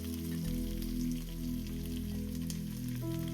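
Onions frying in oil for Andhra-style chicken biryani, giving a steady dense sizzle that runs throughout over a low constant hum, close and fairly loud.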